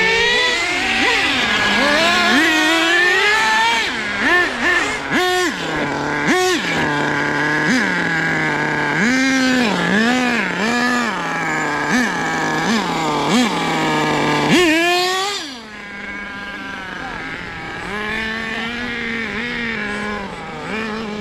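A worn, deeply scratched nitro engine in an HPI Savage two-speed RC truck screams at high revs, rising and falling through repeated throttle blips, loud and close, then settles into a steady drone.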